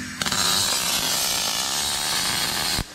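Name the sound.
angle grinder on car part steel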